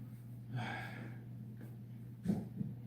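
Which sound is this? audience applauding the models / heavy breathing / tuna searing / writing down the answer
heavy breathing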